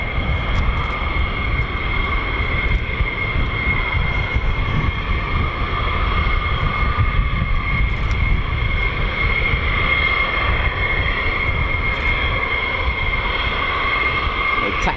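An F-15 fighter jet at RAF Lakenheath gives off a sustained, loud, whining engine roar with a steady high tone over a broad rumble, holding constant throughout.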